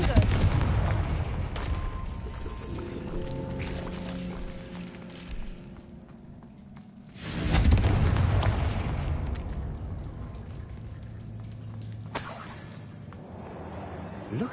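Confringo blasting spells explode in a wizard video game: loud booming blasts with shattering debris at the start, near the middle and near the end, over continuous rumble.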